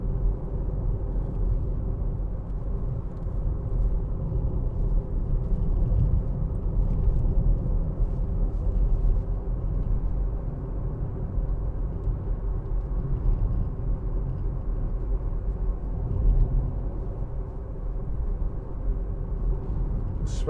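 Interior cabin sound of a 2015 Audi A1 1.4 TFSI Sport with S Tronic gearbox on the move, a steady low engine and road rumble holding evenly throughout with no voices.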